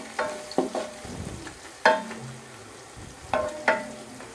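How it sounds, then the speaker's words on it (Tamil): Onions fry golden in a pan with a low, quiet sizzle, punctuated by several distinct clinks and scrapes of a spoon stirring against the pan. "இப்போ நல்லா ஃப்ரை ஆயிடுச்சு. ஆனியன் பொன்னிறமாக வதங்கிருச்சு வெங்காயம்."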